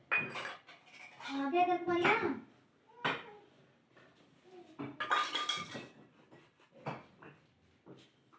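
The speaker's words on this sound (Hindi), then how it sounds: "पहले मैं बर्तन कर लेती हूँ साफ़ सारे।" Dishes, pots and utensils being washed in a home kitchen, with clinking and scraping of metal cookware in uneven bursts, close by, and a dog whimpering now and then among the clatter.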